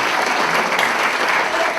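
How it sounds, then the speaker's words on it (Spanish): A church congregation breaks into applause, a loud, even patter of many hands clapping together that carries on without a break and without any talk. "hoy podemos darle un aplauso a Dios"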